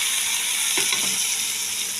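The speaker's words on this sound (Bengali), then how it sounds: "দিয়ে আমি পেঁয়াজটা ভালো করে ভেজে নেব" Onions frying in hot oil with nigella seeds and green chillies, giving a steady broadband sizzle with a brief scraping stir near the middle and no talk.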